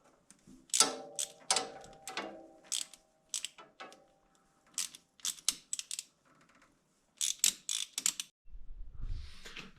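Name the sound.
ratchet tightening clamps while installing ATV coolant temperature sensor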